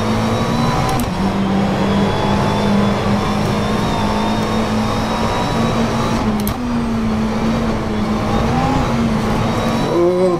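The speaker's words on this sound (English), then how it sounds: "You hear the inside wheels spinning up." McLaren 720S GT3 race car in rFactor 2 at Mid Ohio, engine droning steadily with a wavering pitch as the inside wheels spin up over a curb, a continuous in-car sim racing sound with no voice.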